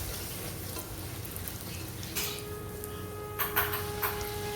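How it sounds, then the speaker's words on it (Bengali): White luchi puris frying in hot oil, a soft continuous sizzle and bubbling heard close up with a few faint clinks, fairly quiet and without talk. "আবার সাদা লুচি ভাজা হচ্ছে, সাদা হলে হবে না, লাল হতে হবে।"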